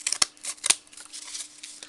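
Scissors snip paper for the roof piece of a handmade Christmas chalet craft, two sharp crisp cuts followed by lighter rustling and trimming, close and quiet with no talk.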